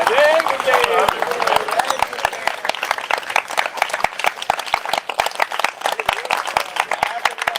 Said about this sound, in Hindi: ताली बजाना बेटा, बजा ताली